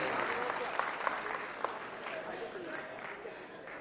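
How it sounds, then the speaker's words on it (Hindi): A hall audience applauds the organizers at an inauguration event, a dense wash of clapping that is fairly distant and gradually fades out, with a few sharper individual claps standing out. "आपके जो ऑर्गेनाइजर हैं, उनके लिए खास तौर पर तालियों की गड़गड़ाहट चाहिए"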